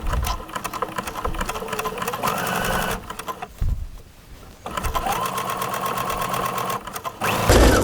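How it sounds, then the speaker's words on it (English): A sewing machine stitches fabric over a cord in a steady, fast mechanical whir, stops briefly partway, then runs again at close range. "Now all I have to do is stitch just like I did before."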